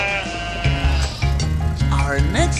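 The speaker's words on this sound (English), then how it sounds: "The sheep on the bus goes ba, ba, ba, ba, ba, ba, ba, ba, ba." A sheep bleats in a steady run of repeated wavering calls, loud and close, one after another without pause.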